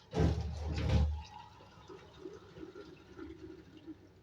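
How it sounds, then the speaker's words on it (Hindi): Water pours briefly and splashily into a cooking pot of beef karahi for about a second, then only faint trickling and quiet bubbling remain. "इसमें पानी हम डालेंगे"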